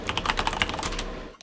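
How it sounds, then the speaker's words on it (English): Rapid computer keyboard typing, a fast run of close, crisp key clicks in an uneven rhythm that stops abruptly near the end. "I hear typing"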